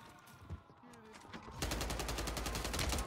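Gunfire in Warzone 3 on Rebirth Island: after quieter game sounds, a loud, dense burst of rapid automatic shots erupts and continues steadily to the end.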